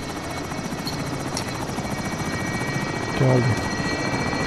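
A helicopter drones overhead in Call of Duty Warzone, a steady rotor buzz beneath game effects, with a player briefly speaking near the end.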